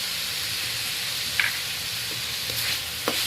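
Onion, chili and tomato stir-fry in a pan with ginger-garlic paste, giving a steady, close sizzle and hiss with a few soft spatula scrapes and clicks, and no talking.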